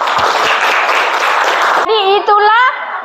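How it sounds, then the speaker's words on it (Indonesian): Classroom students clap for their classmates in a dense, steady burst that stops abruptly, followed by a voice speaking. "Jadi kita beri tepuk tangan dulu untuk teman-temannya."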